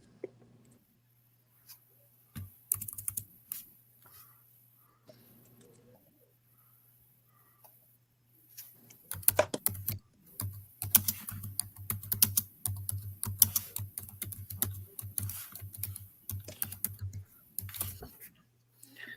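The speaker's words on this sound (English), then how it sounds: "He's typing." Rapid clicking of keys on a computer keyboard in bursts, fairly close, with a steady low hum and occasional bird cooing in the background.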